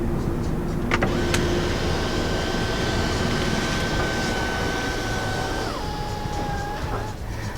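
The panoramic moonroof of a 2020 Mercedes GLC 300 opens with a smooth, steady electric motor whine that holds for several seconds, drops in pitch, then stops, heard inside the quiet cabin.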